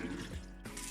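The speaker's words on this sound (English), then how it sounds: "we're going to give the pork a quick rinse" Raw pork gets a quick rinse under running tap water in a kitchen, a faint, soft gush and splatter heard briefly on its own.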